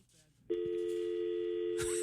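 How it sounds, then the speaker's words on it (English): A steady telephone dial tone starts abruptly after a brief quiet moment and holds continuously, loud and close, with a faint click near the end. "I heard a dial tone that time"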